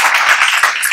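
Audience applause at a talk session by a cycling group, a dense patter of clapping that runs steadily through a brief one-second stretch.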